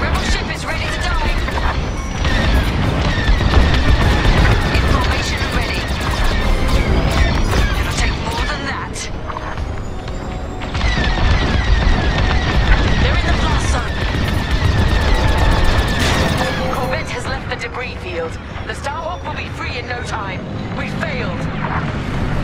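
Starfighters open fire during a Star Wars: Squadrons space battle, with laser blasts, booms and engine roar layered into a loud, continuous combat mix. Radio chatter and voices run throughout.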